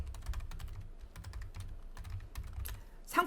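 Rapid, steady keystrokes on a computer keyboard while data goes into an Excel spreadsheet, clicking in short bursts with brief pauses, close and fairly quiet, no talking.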